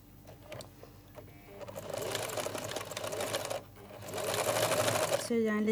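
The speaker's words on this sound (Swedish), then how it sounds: "Nu ska jag sy fast det här på maskin." A sewing machine stitches store-bought bias binding onto fabric in two steady, close-up runs of whirring stitching, with a brief pause between them and a short break at the end.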